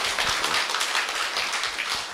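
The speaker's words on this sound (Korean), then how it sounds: "다시 한번 큰 박수 부탁드리겠습니다" An audience applauding at a business conference, a continuous wash of many hands clapping, fairly loud and close, with no speech over it.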